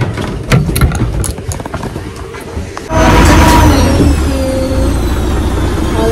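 A launch boat's engine on a Sundarbans river starts up partway through with a loud, steady droning rumble. Before it, quieter clatter and ambient noise come from on board.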